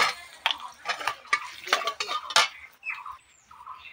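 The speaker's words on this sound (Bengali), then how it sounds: "এই যে তেল বসিয়ে দিয়েছি, এর মধ্যে দিয়ে দিলাম শুকনো লঙ্কা" Dried red chillies crackle in hot oil in a pan for a katla fish curry, a close, bright spattering with sharp pops and clinks of a utensil against the pan, easing toward the end.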